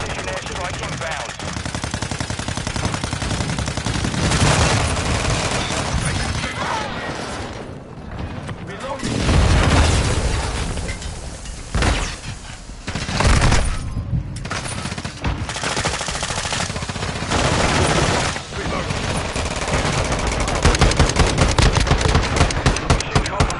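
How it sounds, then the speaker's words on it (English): Modern Warfare 2 battle: sustained bursts of machine-gun fire and heavy explosions from a precision airstrike, with booming impacts and brief lulls between volleys, while radio voices speak over the combat. "Friendly precision airstrike inbound."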